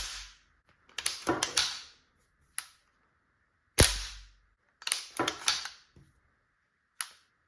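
A B&T KH9 pistol dry-firing, with sharp mechanical clicks and snaps in irregular clusters separated by short silences, close and fairly quiet, no voices.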